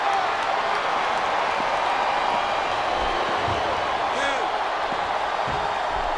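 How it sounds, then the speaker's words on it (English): A wrestling arena crowd roars steadily in the WWE SmackDown vs Raw 2007 video game, a dense continuous wall of cheering, with a few thuds and commentators talking over it. "I love hearing the crowd come alive"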